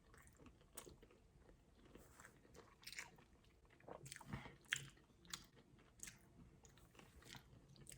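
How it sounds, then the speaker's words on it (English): Biting into and chewing crunchy fast-food fried chicken with hard, thick skin, close and quiet, with irregular crisp crunches and wet mastication and no talking. "That skin is very crunchy, but it's kind of hard to chew into."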